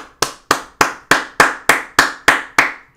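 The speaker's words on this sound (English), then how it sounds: "Hey, I'm clapping my hands." Hand claps in the video game Gorilla Tag, nine sharp, evenly spaced claps in quick succession, each with a short ringing decay, loud and close with no talking.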